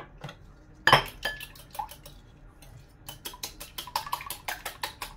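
A utensil clinks and taps in quick, uneven bursts against a pan while broccoli with seasoning is stirred, fairly close, with no talk over it.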